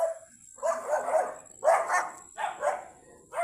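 A dog nearby gives a series of three or four barks and yips, spaced about a second apart, fairly loud and with no one talking over them.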